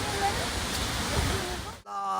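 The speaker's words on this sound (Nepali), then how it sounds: "यस्तो दामी झरना रहेछ" Jalbhire waterfall in Chitwan, Nepal, roars as a loud, steady broadband rush of falling water, continuous and close, cutting out abruptly near the end before a quieter tail.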